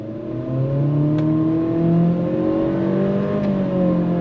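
Inside a 2025 Acura ADX A-Spec accelerating on throttle, a steady engine hum and whine climbs gradually in pitch, moderately loud and close, with no one speaking.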